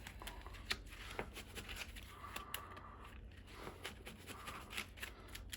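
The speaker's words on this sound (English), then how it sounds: "we're just gonna shuffle really well for the sake of the video" A Yu-Gi-Oh trading card deck is shuffled thoroughly by hand, giving a quiet, continuous riffle of soft card flicks and crackles up close, with no talking.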